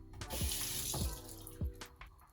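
A tap runs water to wet a hair brush, a soft close splashing stream with a few gurgling spatters, heard alone.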